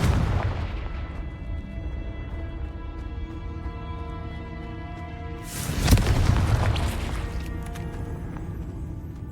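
A Confringo fire spell explodes in a wizarding video game, landing as one loud, sharp burst midway through and set against steady, tonal game music.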